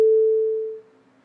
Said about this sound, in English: we've basically created a sine wave with an AD envelope